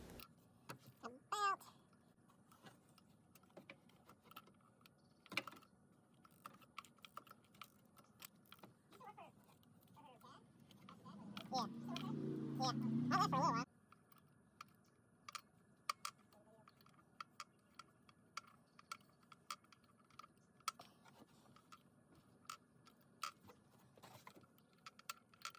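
Socket wrench with a spark plug socket and extension working spark plugs out of a Honda Odyssey engine: scattered close metallic ticks and clicks, with a brief louder grinding ratchet burst midway, over a quiet background.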